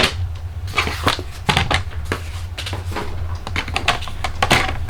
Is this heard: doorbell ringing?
no